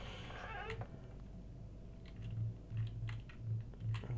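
Close, soft clicking from a computer keyboard during a horror game, with intermittent clusters of taps growing steadier toward the end, alone without speech.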